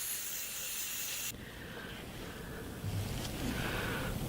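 Continuous hissing spray of olive green camouflage paint from a spray gun, close and steady, with the airflow shifting in tone as passes start and stop.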